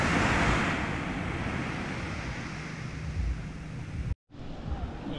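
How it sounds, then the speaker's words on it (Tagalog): Large ocean waves wash steadily onto the shore at a Philippine fishing beach, a continuous broad roar with wind buffeting the microphone and a brief dropout near the end. "malakas kasi, malaki yung alon."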